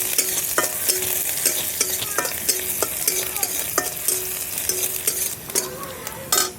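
Sliced green chillies and chopped onion fry in spice paste with a steady close sizzle, broken by repeated scraping stirs of a spatula against the pan.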